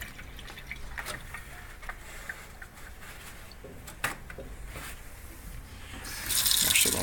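Tap water runs into a kitchen sink as robot vacuum parts from a Deebot are rinsed off, a steady splashing stream with a few drips, growing louder near the end, with no one talking.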